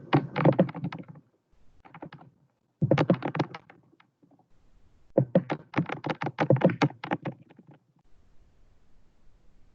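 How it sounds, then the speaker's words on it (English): Bursts of rapid keyboard typing, close and clear, in several runs separated by short pauses and a few lone key taps. "sorry, I was just typing"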